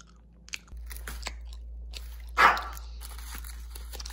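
Dog biting and crunching a homemade pumpkin and spirulina treat: a few soft clicks, then a short loud crunch, followed by quieter chewing over a steady low hum.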